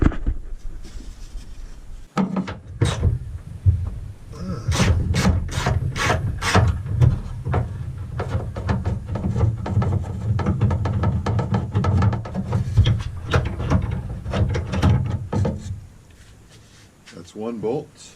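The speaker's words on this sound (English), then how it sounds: "you can come in here and you can unbolt the light" A 10 mm wrench works a nut loose on a car light mount, giving a steady close ratcheting and rasping with quick repeated clicks over about a dozen seconds, with someone talking across it.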